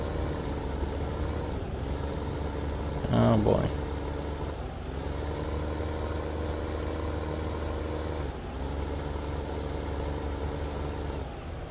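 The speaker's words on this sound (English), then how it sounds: "tractor does not want to go over these logs." Tractor engine in Farming Simulator 15 idling and labouring at a steady low hum while struggling over logs in the woods, with a brief clunk partway and someone talking over it.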